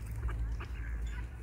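Ducks quacking softly in a few short calls over a low, steady rumble of outdoor background noise, with coots feeding among them.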